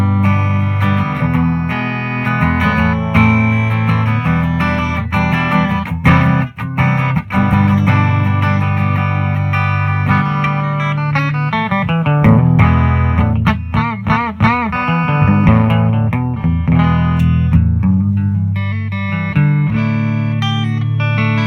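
A bass guitar played on the bridge pickup runs through a Bassman in a Box FET preamp with the treble boosted, giving a loud, gritty, distorted tone over sustained notes and busy runs, with no talking.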